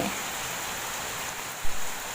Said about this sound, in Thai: วันนี้ฝนตกหนักเลย ตกนานมากค่ะ